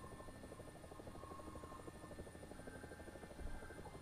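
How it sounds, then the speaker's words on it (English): A helicopter in the War Thunder video game thumps steadily past, its rotor chop and engine buzz faint but continuous throughout, with no voices. "The chopper's too fast."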